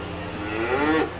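A single cow moos close by at a fair, a short rising bellow over a constant background hum of fans.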